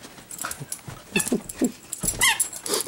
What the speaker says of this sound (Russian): Радуется жизни псинка.